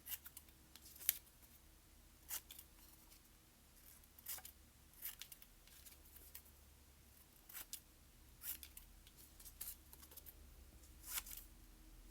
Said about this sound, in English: Let me cut some more.